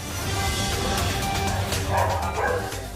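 Rescued dogs at an animal welfare shelter office bark loudly and continuously, with overlapping yips amid constant noise.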